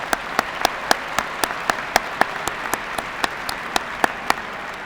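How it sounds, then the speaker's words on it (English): Applause at a 2022 senior recognition ceremony comes through as steady, evenly spaced claps, sparse and rhythmic rather than a dense roar, at a moderate distance with no talking. "Maxwell, we got one extra applause for you"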